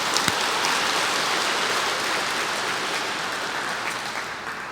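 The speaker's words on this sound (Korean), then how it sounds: "박수 쳐." A retreat audience claps together in a church hall gathering, a steady dense wash of applause that holds at an even level throughout with no voices over it.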